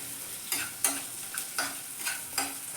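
Onions frying in a pan for baby corn Manchurian, stirred with regular scraping strokes about every half second over a steady, close sizzle.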